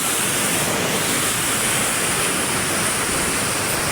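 Loud, steady rushing floodwater roars continuously with a dense broadband hiss, close by and without pause.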